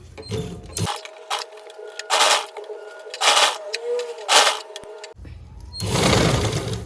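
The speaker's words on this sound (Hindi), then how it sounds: "अब हमने यहाँ से पेस्टिंग पे दोबारा से सिलाई लगानी है" A sewing machine stitches a ready-to-wear saree in short bursts of rapid whirring. Quiet pauses and faint handling noises fall between the bursts, and no one speaks.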